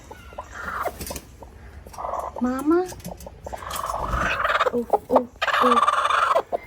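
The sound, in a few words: hen clucking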